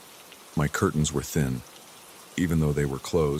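Steady rain hisses softly and continuously in the background while a calm voice narrates a story over it.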